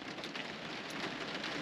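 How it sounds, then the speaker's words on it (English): Heavy rain pouring down outdoors in Woodmansterne, a dense, steady hiss of drops drumming on surfaces with no pauses, fairly close and even, with no voices. "it's now peeing down with rain."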